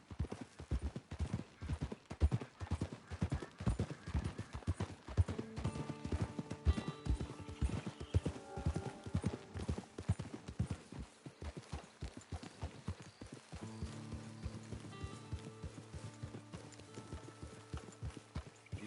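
Horse hooves clip-clop steadily in the Red Dead Redemption 2 video game, a regular walking rhythm of close, crisp hoof strikes, with a faint whinny and music-like tones joining partway through.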